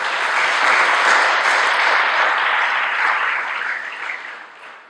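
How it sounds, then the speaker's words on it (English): An audience in a Fresno theater gives a warm round of applause welcoming a pastor to the stage, dense steady clapping that holds for a few seconds and then gradually fades out. "If you can welcome him with a round of applause,"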